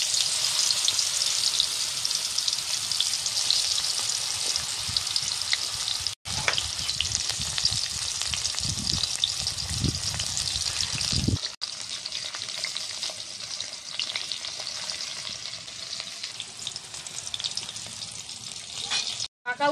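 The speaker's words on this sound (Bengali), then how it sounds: "এবার আমি পাকা উচ্ছেগুলো ভাজা করে নেব।" Ripe bitter gourd frying in leftover chili-frying oil, a steady loud sizzle and crackle running nearly twenty seconds with brief dips and occasional stirring, no talk over it.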